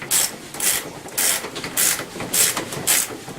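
Front wheel being tightened on a Tao Tao ATM50A scooter, a ratchet wrench clicking in seven evenly spaced bursts, close and fairly loud with no voices.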